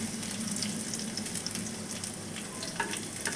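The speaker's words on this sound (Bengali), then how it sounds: "এই যে একদিকে লঙ্কাটা ভেজে নিচ্ছি" Chillies and garlic frying in hot oil in a wok, a continuous soft crackling sizzle with a few brighter pops, steady and fairly quiet with no speech.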